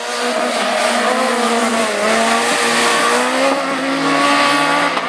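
Rallycross race cars, among them an Audi A1, racing in a French championship division 1 heat at Lessay, engines roaring loud and continuous with rising and falling revs and tyre squeal throughout.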